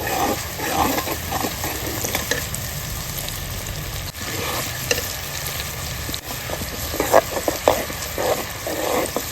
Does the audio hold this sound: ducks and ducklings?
no